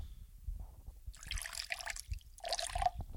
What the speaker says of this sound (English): let me pour some of this.